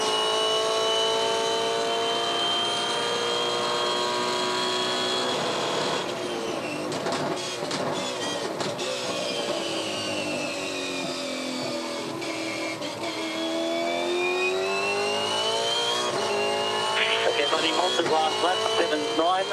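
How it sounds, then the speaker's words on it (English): V8 Supercars scream around the Darwin street circuit, high engine wails rising and falling as cars pass, with gear-change stutters and layered engines from several cars at a steady, loud level. "Let's just suck up a bit of V8 supercar action around this track"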